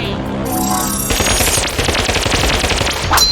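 Blaster gunfire from a toy robot battle rattles in a rapid, loud burst of repeated shots, starting after a brief lead-in and continuing densely to the end, with no talk over it.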